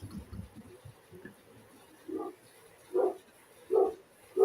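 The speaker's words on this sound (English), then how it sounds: "They're here because my dogs are barking." Dogs barking in a home, a few separate barks spaced about a second apart, growing louder toward the end over quiet background noise.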